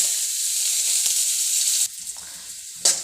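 Hot oil sizzles loudly and steadily as mustard seeds and onion fry, then drops briefly before another sharp crackle flares up near the end, close and unaccompanied by speech.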